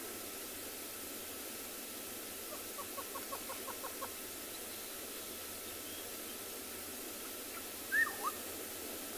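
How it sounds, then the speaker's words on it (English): Black-headed oriole and hornbill calls ring out at a sunrise safari in the African bush, a rapid series of faint repeated notes followed by a brief louder call, distant and set against a constant hiss. "That black-headed oriole. And the hornbill."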